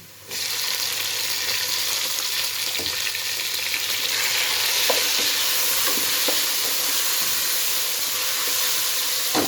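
Cumin, cinnamon, black pepper and tomatoes frying in hot oil for beef pulao, a loud, steady hissing sizzle with scattered sharp spattering pops, starting abruptly and continuing throughout.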